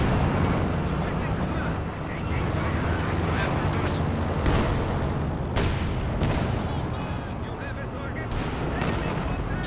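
In a Company of Heroes 2 match, an M42 anti-tank gun fires canister shot amid a dense din of booming gunfire and battle noise, with people talking over it.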